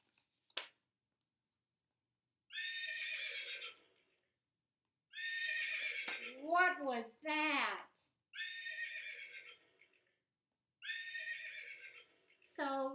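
A horse neighs and whinnies repeatedly in a farm setting: four loud, drawn-out calls with descending shaky tails, separated by pauses, with a brief voice near the start.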